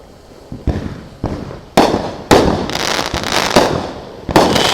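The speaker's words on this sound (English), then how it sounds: "our own fireworks show right in our front yard." Fireworks bursting in a front yard on the Fourth of July, a series of sharp loud bangs and crackles at irregular intervals, growing denser and louder toward the end.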